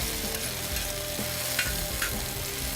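Onions and peppers fry in olive oil on a grill, giving a continuous close sizzle with occasional soft scrapes and clicks as the vegetables are pushed around.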